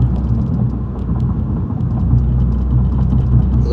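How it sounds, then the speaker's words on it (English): A steady low exhaust drone at about 1,500 RPM with a bassy hum rumbles continuously from inside a moving car, with road noise beneath it. "a little bit of drone in the background, a little bit of bass tone"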